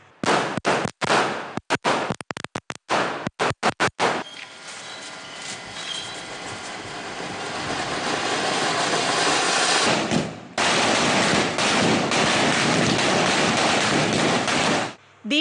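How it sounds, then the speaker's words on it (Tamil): Firecrackers burst during Diwali celebrations: a rapid volley of sharp cracks, then a sustained dense roar of crackling explosions, loud and outdoors, ending abruptly. "இதனால் காலையிலேயே மக்கள் பட்டாசுகளை வெடித்து மகிழ்ச்சியுடன் தீபாவளியை கொண்டாடினர்"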